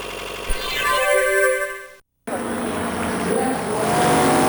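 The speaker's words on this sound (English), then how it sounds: "Look, the car is still running." A race engine whose intake was contaminated with pounds of sand keeps running, a loud steady roar broken by a brief silent gap, with a whining tone rising near the end.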